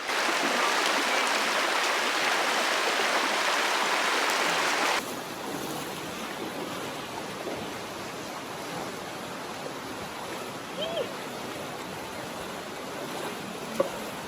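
Steady broadband rush of river current flowing through The Narrows canyon in Zion, loud and close at first, then a softer continuous wash with faint birdlike chirps over it.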